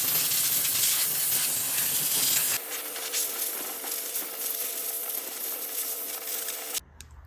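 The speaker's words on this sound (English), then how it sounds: "for that I got my little steam cleaner." A small handheld steam cleaner blasts steady, loud hissing steam onto a 1999 Infiniti Q45 intake manifold, the spray changing character partway through and cutting off near the end.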